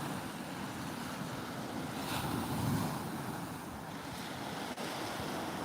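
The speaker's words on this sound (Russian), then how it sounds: "Нет, вот оно каждый день с волнами." Sea waves wash steadily onto the shore in a continuous broadband rush, swelling slightly midway, with wind in the background and no talking.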